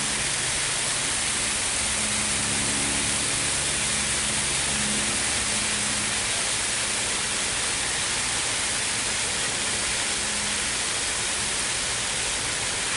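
Water from a garden hose set up as a shower rains over a jackfruit tree to guard it against freezing, a loud, unbroken, close-up hiss like heavy spray with a faint low drone underneath and no talking.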